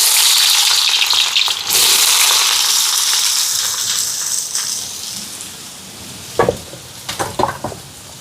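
Onions fry in hot oil with a loud close hiss that gradually eases, followed near the end by several sharp knocks and scrapes of a utensil against the pan.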